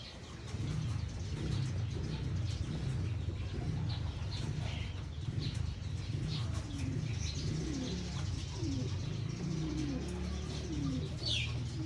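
Pigeons in a coop coo in low, throaty, overlapping calls, with a few chirps and a brief flutter of wings, steady and close in the early morning with no talking.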